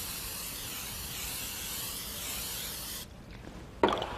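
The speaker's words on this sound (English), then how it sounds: "I've got a nice big casserole dish that I'm going to spray with cooking spray" Cooking spray sprayed into a big casserole dish, a steady close aerosol hiss lasting about three seconds, then stopping, followed by a brief clatter.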